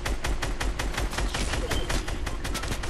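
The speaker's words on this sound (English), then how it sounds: "Watch out, there's people shooting at us." Rapid bursts of video game gunfire, a dense run of sharp repeated shots firing in quick succession throughout, loud and close, with no talking over it.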